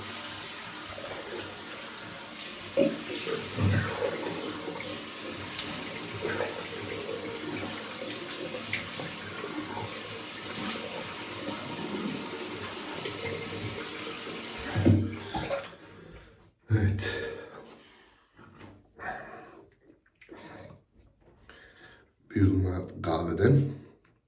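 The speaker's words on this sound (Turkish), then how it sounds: "Şimdi yüzümüzü bir yıkayalım." Tap water runs steadily into a sink for about fifteen seconds, then comes in short splashing bursts as a face is rinsed after a wet shave, close and fairly loud.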